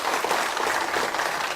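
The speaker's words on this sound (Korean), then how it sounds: "박수로 맞아주시겠어요?" A brief burst of steady clapping from a seated audience at a lecture hall event, welcoming an arriving guest. The sound is fairly loud and even, with no voices over it.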